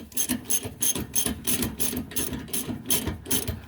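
A ratchet with an 18 mm socket runs a bolt into a Dodge Durango front shock mount, clicking in quick repeated bursts, close and loud, with no talk.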